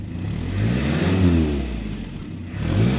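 A 1974 Land Rover Series engine idling on choke while warming up, a steady low rumble close by with slight rises and falls in speed, no talk over it.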